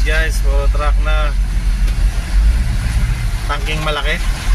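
Trucks idle in heavy, hot traffic in Valenzuela, a steady low engine rumble filling the scene while people talk over it in bursts at the start and end.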